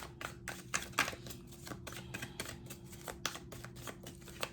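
Tarot cards are shuffled close by in a rapid series of crisp riffling and slapping bursts, with no talking.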